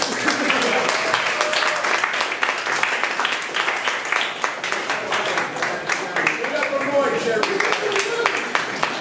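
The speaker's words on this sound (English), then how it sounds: "Give Moishie a nice round of applause." A comedy club audience at Broadway Comedy Club breaks into applause, a dense sustained wash of clapping from a full room, with a voice talking over it.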